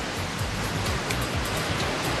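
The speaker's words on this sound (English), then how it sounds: "the waves still look really fun when they come through, Pete." Ocean waves break and wash in a steady, loud surf roar at a Hawaiian Pro surfing contest heat, with a broad rushing hiss throughout.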